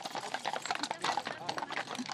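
Hooves of a four-horse carriage team clip-clop steadily at a trot in a driving competition, a quick irregular run of hoof strikes close by, mixed with people talking and a busy outdoor background.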